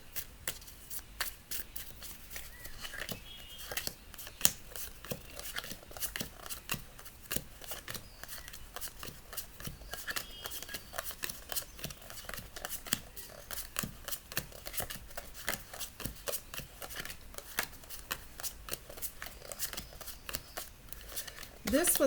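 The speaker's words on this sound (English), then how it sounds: "Another shuffle." A long stretch of tarot cards being shuffled and riffled, with rapid crisp snaps and flutters repeating close by, nearly continuous throughout.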